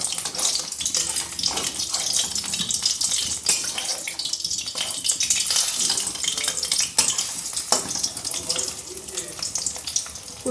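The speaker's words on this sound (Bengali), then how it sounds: "ডুবিয়ে দুটো ফুল আমি ছেড়ে দিয়েছি তেলের মধ্যে।" Batter-dipped pumpkin flower fritters made with lentils frying in hot oil, a continuous close hiss and crackle with small clinks of utensils against the pan.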